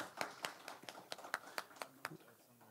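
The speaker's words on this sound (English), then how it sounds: "we're going to clap for that" Student senate members clap in scattered, uneven bursts after a vote at their meeting, fairly faint and roomy with some low murmuring underneath.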